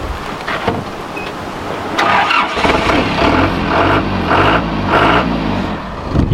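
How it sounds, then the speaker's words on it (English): An engine cranks and catches, the churning start of a forklift, loud and close, turning over unevenly for several seconds while briefly surging. "Alright, let's start the forklift."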